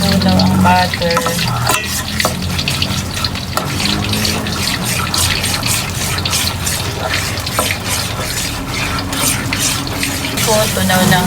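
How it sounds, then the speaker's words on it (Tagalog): Butter melts in a pan for a honey garlic chicken wing sauce while a spoon stirs it constantly, making a loud, continuous wet scraping and bubbling close by. "Halu-haluin lang po natin hanggang matunaw ang butter."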